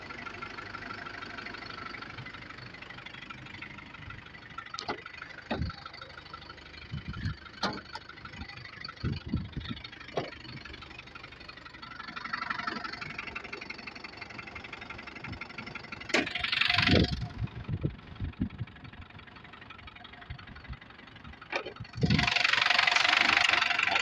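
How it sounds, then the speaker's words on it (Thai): A used car's engine idles steadily at low volume, a smooth, even hum with occasional soft clicks and knocks. A louder burst rises near the end. No voices are heard. "เสียงเครื่องยนต์นะ ได้ยินไหมเสียงเงียบนะ"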